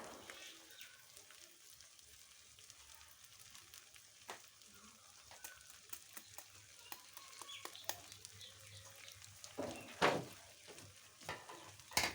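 Crumbled boiled eggs fry in a pan while being stirred, producing a faint, soft sizzle with scattered scraping clicks and a few louder spoon knocks toward the end; birds chirp faintly in the background.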